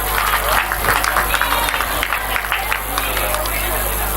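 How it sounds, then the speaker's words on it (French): Loud, sustained applause from an audience at a school general-knowledge quiz competition, dense clapping with crowd noise filling the whole stretch. "que je vous demande d'applaudir très fort"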